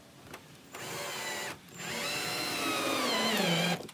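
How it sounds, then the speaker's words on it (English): Power drill driving star-headed decking screws through exterior boards, two close bursts of whining motor, a short one then a longer run that strains and drops in pitch as the screw seats. "So I'm going to get some screws in here just so it doesn't pop out."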